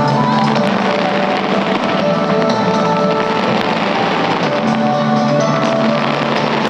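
Loud, continuous New Year fireworks over Taipei 101 crackle and boom in a dense, sustained barrage, with faint crowd noise mixed beneath the steady roar.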